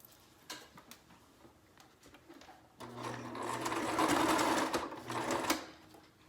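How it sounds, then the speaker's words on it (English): A sewing machine stitches one straight line across a homemade fabric face mask, its steady motor whir rising louder midway through and then easing, with faint ticking before it starts. "I'm just going to take the sewing machine and just run it right across here"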